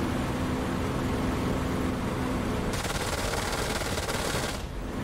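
Spitfire Mk IX machine guns and cannons fire in the DCS World flight simulator, a loud continuous roar of rapid gunfire over engine noise that ends abruptly near the close.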